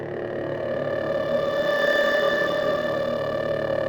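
A synthesized abstract sound effect plays alone: a steady, buzzy tone with layered harmonics and a slow wobble from LFO pitch modulation, moderately loud throughout.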